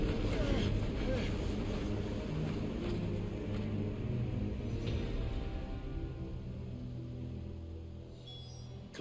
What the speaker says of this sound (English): That's not just windy weather you're wandering into.